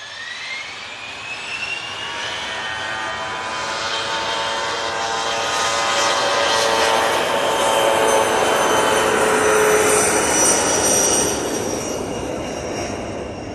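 Global Airlines Airbus A380 departing Manchester Airport, a loud, sustained jet roar with rising whine tones, swelling toward the middle as it rolls down the runway for a Madrid flight, steady and close.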